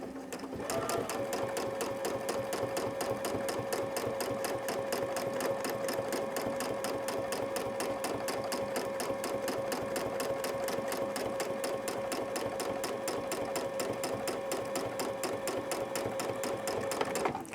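A sewing machine stitching a quilt runs continuously with a rapid, even mechanical chatter and a steady hum, loud and close throughout.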